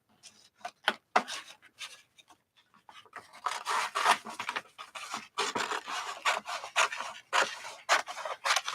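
Paper is cut and trimmed with scissors for a Valentine's art project: a close series of crisp snips and papery rustles in irregular bursts, sparse at first and then coming more densely.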